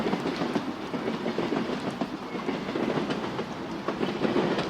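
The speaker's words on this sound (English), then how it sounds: "let the steady sound of the rails carry you away from the noise of the day" A train rolls steadily along the rails, a continuous rumbling clatter with faint rhythmic clicks, heard alone at moderate volume.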